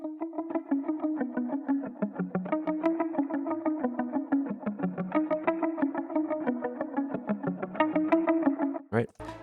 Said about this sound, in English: what it needed was some muted guitar on that part